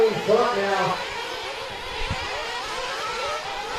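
Buzzing high-pitched whine of 1:8 scale nitro RC truggies racing on a track, rising and falling in the distance beneath a race announcer's continuous commentary.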